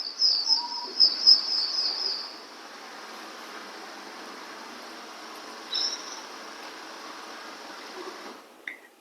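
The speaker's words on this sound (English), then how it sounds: "That's a rufous-eared warbler and a karoo korhan in the background," Faint outdoor birdsong from a restoration site, with calls of a rufous-eared warbler, a karoo korhan and a sabota lark. High thin chirps and trills come in the first seconds, with a few scattered calls later over quiet background hiss.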